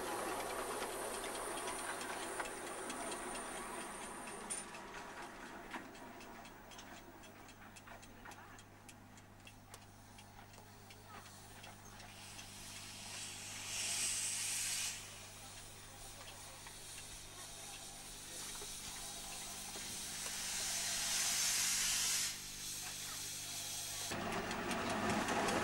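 Number 24, the largest steam locomotive at a windy steam gala, idles close by with a steady low rumble, wind buffeting and soft hissing, while someone talks over it.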